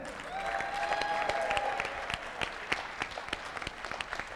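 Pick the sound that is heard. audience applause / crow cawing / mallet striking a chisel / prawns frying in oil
audience applause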